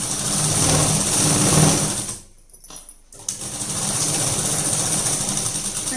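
Sewing machine running steadily and close, stitching a hook strip onto blouse fabric, with a brief pause in the middle before the stitching resumes.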